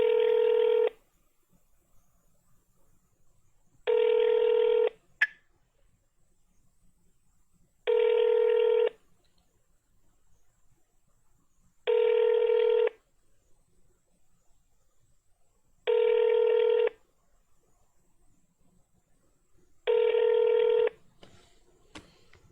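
A telephone ringback tone repeats six times, each ring about a second long with roughly three seconds of near-silence between, steady and clear, ending with a brief click.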